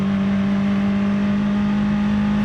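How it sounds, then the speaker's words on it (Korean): A tuned Hyundai Avante MD holds full throttle on a race track, its engine a loud, steady, droning hum heard from inside the car without letup. "7번 코너 가속 페달을 절대 발을 떼지 않고 달려가 봅니다"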